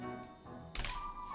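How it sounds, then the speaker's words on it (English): Scissors cut through folded paper with a single quick, crisp snip, close and clear, followed by a brief rustle. "We're gonna take the scissors. I'm gonna cut maybe like an inch off."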